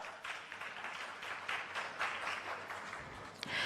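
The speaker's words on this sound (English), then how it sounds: "Can she have a round of applause, please, as she comes up?" Audience applause at a Europe-Uganda business forum, a moderate, fairly distant patter of clapping from a seated crowd, continuous and fairly even throughout.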